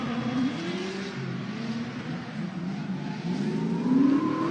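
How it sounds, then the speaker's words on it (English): Race car engine at full throttle during a Road Atlanta drift competition, a steady, loud droning roar that holds and swells slightly near the end, heard from a distance with no talk. "Mashes the throttle."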